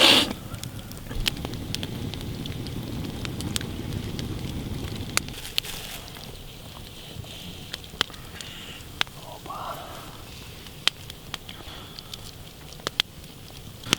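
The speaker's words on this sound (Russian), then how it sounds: "Надо сейчас развести хороший костер, чтобы было больше углей" A campfire burning outdoors in a forest for cooking pork, with scattered sharp crackles and pops over a soft rushing background that fades after the first few seconds.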